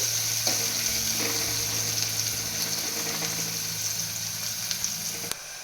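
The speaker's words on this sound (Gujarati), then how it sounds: "પહેલાં આપણે ડુંગળીને થોડી ફ્રાય કરી લઈશું।" Onions frying in a pan for a bhindi masala, a steady close sizzle with faint clinks and a brief scrape near the end, no voices.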